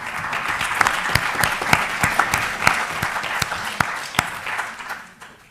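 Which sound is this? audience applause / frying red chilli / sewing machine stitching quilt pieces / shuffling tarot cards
audience applause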